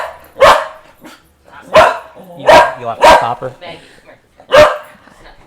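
A dog barks sharply five times in uneven bursts, close by, with a person speaking briefly between the barks.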